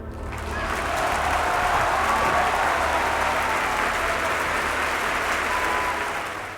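Audience applause greeting the male rabbit character in a film's rabbit scene, a steady wash of many clapping hands that swells quickly and holds loud for several seconds before fading slightly.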